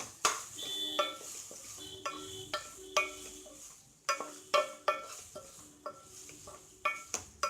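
Green chilli and onion keema being stirred in a pan: a spoon scrapes and clinks against the metal again and again in an uneven rhythm, with a light sizzle underneath, close and clear.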